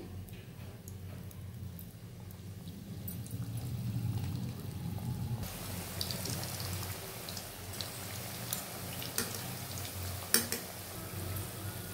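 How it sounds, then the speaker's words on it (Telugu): Food sizzling in hot oil with jaggery nearby, a steady, soft hiss and crackle that grows brighter and fuller partway through, with occasional pops and no talking. "ఇదిగండి ఇట్లా ఎర్రగా వేగిపోవాలండి"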